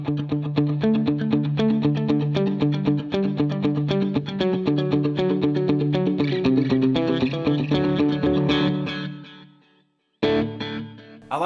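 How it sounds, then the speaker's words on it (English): Electric guitar played through a Line 6 POD Go with chorus modulation and echo rings out in a steady run of shimmering repeated notes, loud and close, ending in a decaying tail before a brief resumed strum. "So this is just the mod chorus echo."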